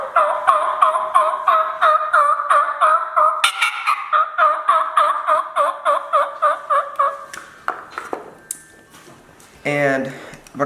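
Turkey call imitation: a steady run of rhythmic yelps, then a sharp, high-pitched screeching cut, the call of an excited turkey, near the end.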